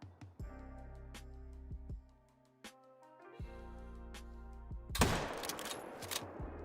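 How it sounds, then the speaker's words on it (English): Rifle shots ring out while hunting in Call of the Wild, several sharp isolated cracks with ringing tails spaced apart, followed by a louder, noisier burst. "and we'll kill the 9 with the proper rifle."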